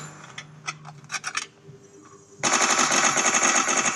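In a video game, a few scattered shots and clicks, then a sudden sustained burst of rapid automatic gunfire, loud and continuous to the end.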